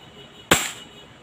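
A Novritsch SSP-18 airsoft gas blowback pistol fires one sharp, close crack that decays quickly into quiet room tone.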